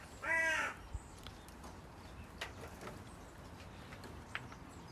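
A single loud, harsh crow caw comes near the start, followed by quiet outdoor ambience with a few faint clicks and taps.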